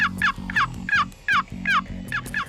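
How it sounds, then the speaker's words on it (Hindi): Rapid, high-pitched turkey yelps from a friction call, repeated in quick bursts over a low background hum, close and clear. "ये एक टर्की कॉल है। इससे फ्रिक्शन कॉल कहते हैं क्योंकि फ्रिक्शन से इससे आवाज निकलती है।"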